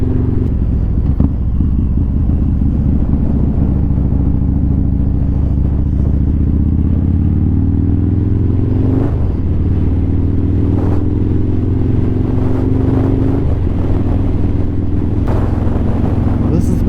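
A motorcycle rides along a road: a steady engine drone rises and falls with throttle changes, with wind rush over the microphone throughout.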